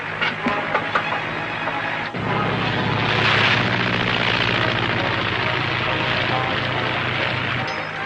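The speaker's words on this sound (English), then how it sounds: "Two of them are getting into the helicopter." A helicopter's steady engine whine and rotor drone in a 1941 film serial, loud and close, continuing throughout after a brief muffled thump early on.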